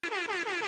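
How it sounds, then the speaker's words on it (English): A Super Hot Fire meme air horn blares loud and sustained, a rich stack of brassy harmonics held for nearly a second with slight wavering pulses. "that air horn gets me every friggin' time with that meme from Super Hot Fire"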